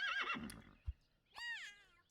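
Horse neigh sound effect from the video game Super Auto Pets: a short whinny with a sliding, wavering pitch that rises and then falls, preceded by a brief thump and a fainter cry earlier on, heard alone with no talk.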